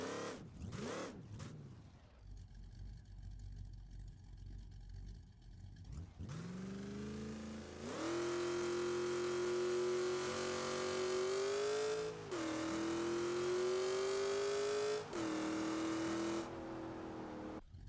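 A 1969 Chevelle on a street tire launches and revs hard through an eighth-mile drag pass, the engine note climbing loud and close with a few sharp shifts before lifting off at the end.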